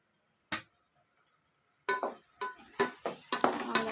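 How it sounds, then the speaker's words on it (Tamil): Tomatoes sautéing in a pan for an eggplant and drumstick kara kuzhambu, heard as a single sharp clatter followed by a run of repeated stirring scrapes and clinks against the pan over a faint sizzle. "தக்காளி நல்லா வதங்கணும்."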